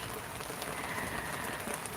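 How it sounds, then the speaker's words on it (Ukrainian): Light rain patters softly and steadily on a greenhouse roof, heard faintly from inside as a continuous, gentle hiss. "У нас, до речі, йде дощик."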